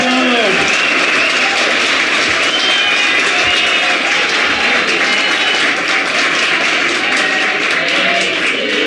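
A convention panel audience at Dink Denver 2018 gives John Leguizamo a loud, steady round of applause, dense clapping filling the room without a break for the whole stretch.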